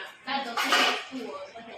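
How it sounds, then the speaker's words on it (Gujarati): Dishes and utensils clink and clatter softly at close range as they are wiped dry, with a brief louder burst in the middle and voices murmuring alongside. "વાસણ અમારે લૂછવા માંડ્યા છે"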